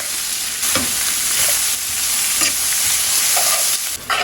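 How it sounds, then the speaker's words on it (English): Onion and garlic frying in plenty of butter for creamy chicken tamales, a steady close sizzle broken by occasional soft stirring scrapes, with no talk. "I'm gonna add in all the onion and garlic."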